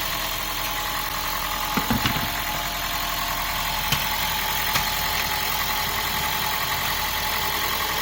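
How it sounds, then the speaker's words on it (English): An old catalytic-converter car with 130,000 miles idles roughly, a steady close engine drone with a few faint knocks and ticks breaking through, no voices. "You can hear this engine is not running as smooth as it should"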